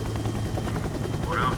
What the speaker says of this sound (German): Glaubt, der Hubschrauber ist da.